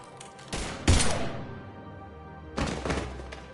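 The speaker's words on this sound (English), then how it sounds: "Now open fire!" Gunfire in Mass Effect 3 Legendary Edition on PS5 comes as two loud, close bursts of shots separated by a short lull, each with a heavy thumping onset that rings out briefly.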